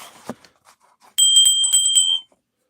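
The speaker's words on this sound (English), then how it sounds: "Maybe I'll just stick my bell on here." A bell is set down with a few light knocks and clatters, then rings clearly with a bright, sustained metallic tone for about a second before cutting off.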